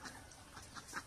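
Hens cluck in a few short, close bursts, a light farmyard sound with no voices over it.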